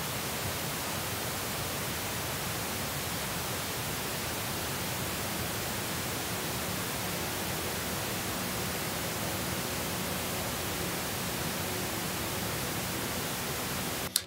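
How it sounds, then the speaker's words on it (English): Steady, loud broadband pink noise runs the full length, with a faint ambient music drone mixed just at the noise floor and barely rising above the hiss; no voices. "mix the level of that audio track so you can barely hear it above the pink noise"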